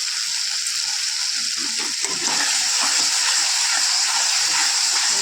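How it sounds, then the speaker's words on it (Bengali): Mushrooms sautéing with sugar in a pan, a steady loud sizzle and hiss running throughout, with faint scraping as they are stirred; no talking. "আর একটু নাড়াচাড়া করবো। ভালো করে মাশরুমটাকে কষিয়ে নেব।"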